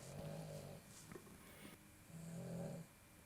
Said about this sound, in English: if you hear snoring